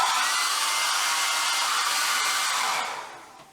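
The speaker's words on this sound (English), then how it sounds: "I just have my mom's blow dryer actually right here. And I'm just going to dry my hair." A handheld blow dryer runs steadily at close range, drying hair with a loud, continuous airy whoosh that cuts off and fades over the last half second.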